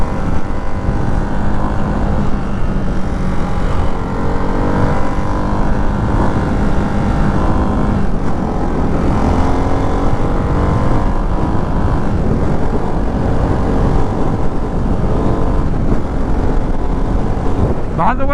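A 2024 Ducati Hypermotard 698 RVE single-cylinder motorcycle pulls hard through its gears, its engine note climbing and dropping with each shift under a constant loud roar of wind rushing past.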